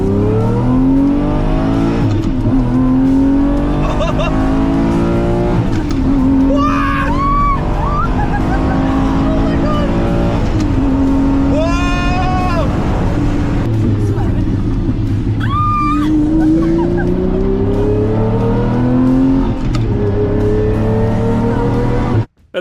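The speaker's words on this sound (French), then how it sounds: "Je m'apprête à faire un tour de piste au volant de la Lamborghini Murciélago." Lamborghini Murciélago with a rebuilt engine driving on a race track: a loud, close engine roar rises and falls through repeated revs and gear changes for the whole run, with someone talking over it.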